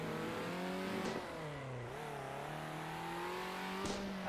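A video game racing car engine drones at high revs, its pitch dipping and rising through gear changes, loud and continuous with no voices.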